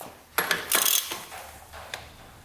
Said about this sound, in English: we're using a 24mm socket to get these valve caps off